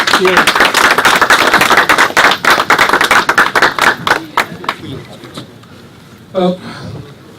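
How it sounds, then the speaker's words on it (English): Dense applause from a crowd at an Eid celebration event, loud and continuous claps for several seconds, then thinning into scattered claps and fading out, with a brief burst of voice near the end. "Can I have a round of applause for him, please?"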